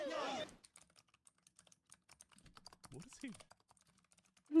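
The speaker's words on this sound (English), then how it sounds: "The typing is really funny." Computer keyboard typing, a fast scatter of light clicks and taps, with a voice speaking briefly at the start and again at the end.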